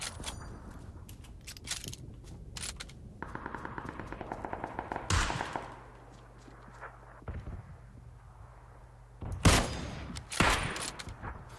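Video game gunfire: bursts of rapid automatic shots and a few loud single blasts, separated by quieter gaps, crisp and near, with no talk over them.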